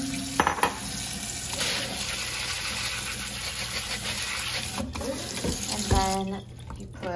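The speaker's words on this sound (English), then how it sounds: "now I'm going to rinse them" Soaked organic raw cashews are rinsed under a running kitchen tap. Water splashes and gurgles in a sink, close and fairly quiet, with a few clunks near the start and end.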